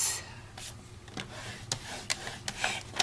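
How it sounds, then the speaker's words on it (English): Cardstock is scored on a paper trimmer: a quiet scraping rub as the scoring blade drags along the sheet, followed by a run of light clicks and taps, all close and soft. "we are going to do some scoring here"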